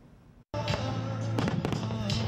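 After a short cut, a rapid string of fireworks pops and bangs at close range, loud and crackling over a low tonal hum.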